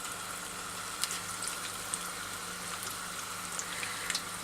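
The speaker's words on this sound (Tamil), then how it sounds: "எண்ணெய் நல்லா சூடாயிடுச்சு. நம்ம இப்போ வந்து கையால் இந்த மாதிரி உளுத்தி விடலாம்." Potato pakora batter dropped by hand in small portions into hot frying oil, giving a steady dense sizzle and bubbling with a few sharper crackles, close and continuous, no talking.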